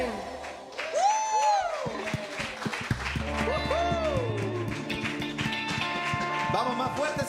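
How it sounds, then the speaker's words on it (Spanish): Worshippers at a live church service clap along in praise, a moderate steady patter of hands beneath singing voices and a sustained band, with a few whoops rising from the congregation. "Vamos, más fuerte ese aplauso al Rey que vive."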